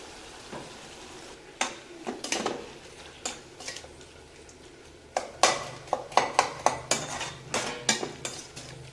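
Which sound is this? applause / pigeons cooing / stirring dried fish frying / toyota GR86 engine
stirring dried fish frying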